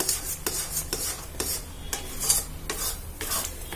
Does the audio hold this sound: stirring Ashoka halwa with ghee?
yes